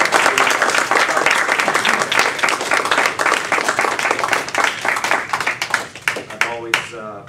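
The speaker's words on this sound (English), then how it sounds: "Let's give Amy a great round of applause." An audience at a speech evaluation contest applauds, dense steady clapping for about six seconds that thins out into scattered final claps.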